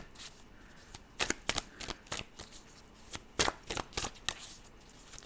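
Tarot cards shuffled by hand up close, with clustered bursts of crisp papery riffles and taps separated by short pauses, and no voices.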